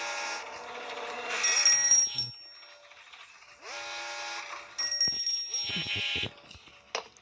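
Ringing in the horror game Granny comes in two loud bursts of bright metallic jangling, bell-like with a rattling mechanical edge, separated by quieter clicking and thuds.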